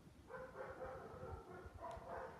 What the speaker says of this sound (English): I'm sorry for that barking in the backyard.